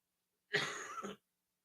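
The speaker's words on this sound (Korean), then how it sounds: "오늘 좀 기침을 좀 할 것 같아요." A single short, breathy cough or throat-clear, close and alone, lasting under a second with silence on either side.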